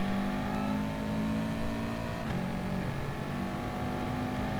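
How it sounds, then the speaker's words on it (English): A race car engine roars in the video game GT Sport on a circuit, a loud, continuous, steady drone with a slight dip in pitch midway, with no speech over it. "there's a car coming out of the pits now ahead of us"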